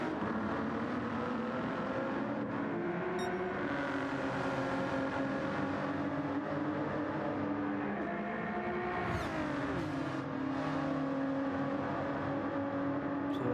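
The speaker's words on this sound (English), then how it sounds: "as Sarex went through, but he's keeping the pressure on the Ford driver now" Race cars in a sim racing game round at Daytona, including a Ford and a Porsche, droning at high speed in a continuous loud engine roar with shifting pitch and whooshes as cars draft and pass.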